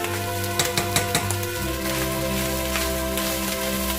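Green onion garnish sizzling in a pan of pork fried rice, a steady crackling fry with a few sharp ticks and pops near the start, close and fairly loud with no talking.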